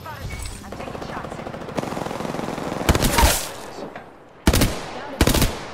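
Rapid automatic gunfire and single shots in Apex Legends, loud bursts in several clusters with brief pauses, over continuous game sounds and a speaking voice.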